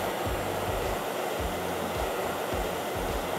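A butane torch used for resin work burns with a steady broad hissing flame, close and continuous, with a low wavering rumble underneath and no one talking.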